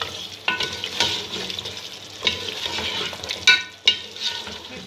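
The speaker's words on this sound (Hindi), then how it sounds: "स्लो आँच पे मैं इस दही का पानी खुशक करती हूँ।" Yogurt for mutton korma sizzles and bubbles in a pan over a low flame, with a continuous close frying hiss and occasional stirring scrapes and pops throughout.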